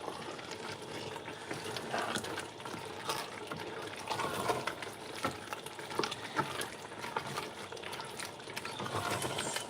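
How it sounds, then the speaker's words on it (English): Sweet potato leaves are stirred in a cooking pot for a Sierra Leone dish, giving a steady wet churning and sloshing with scattered scraping clinks throughout, no voices. "let's just mix once"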